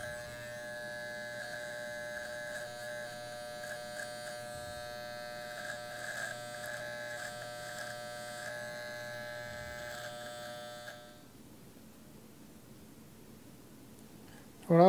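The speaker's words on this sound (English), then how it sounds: "And then turn the clipper around and shave up." An electric hair clipper buzzes steadily and close while shaving up the sides during a men's disconnected side part undercut, its hum holding for about eleven seconds before it cuts off and leaves quiet room noise.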